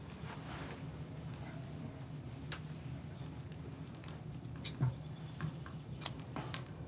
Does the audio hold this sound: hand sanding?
no